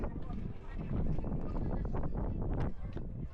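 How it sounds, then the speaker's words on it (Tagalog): Strong wind roars and buffets the microphone continuously on a high bridge in Sapa, Vietnam, with people talking underneath the gusts. "Grabe na kasi hangin."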